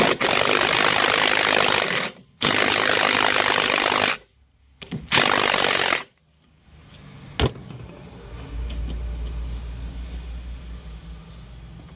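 A power impact wrench loosening a 15mm nut on the rear suspension of a Ford Escape being repaired after collision damage, loud sustained buzzing bursts separated by short pauses, followed by quieter clanks and handling of parts.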